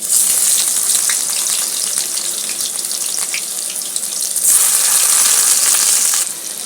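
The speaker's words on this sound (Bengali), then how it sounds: "তেলটা গরম হয়ে গেছে বন্ধুরা আমি এই তেলের মধ্যে একটা শুকনো লঙ্কা দিলাম তারপরে দিচ্ছি পেঁয়াজ" A dried red chilli and onion dropped into hot oil in a kadai sizzle loudly and continuously up close, a hissing crackle that swells slightly midway and holds steady without any talk.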